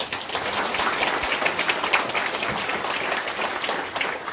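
A church congregation claps together during a pastor's installation and emeritus ceremony, a sustained, even wash of many hands applauding at moderate volume with no pause.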